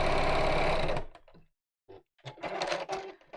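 A sewing machine topstitching, one loud close burst of steady rapid whirring that stops, followed by a short pause and some handling clatter.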